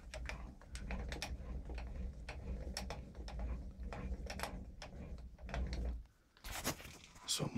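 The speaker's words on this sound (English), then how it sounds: "So I'm cranking." Hand-cranked feed on a milling machine cutting a hex socket, heard as a steady mechanical grind with repeated ticking clicks running close and fairly loud for about six seconds, then a brief pause and sharper metallic clatter.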